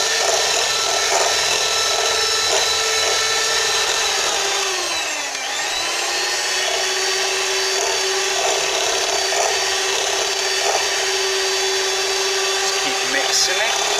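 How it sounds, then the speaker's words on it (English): An electric whisk mixes homemade white and dark chocolate chip oat and raisin cookie dough, giving a loud, steady motor whine with a brief dip in pitch midway, and a voice talks over it. "Mixing it, whisking it."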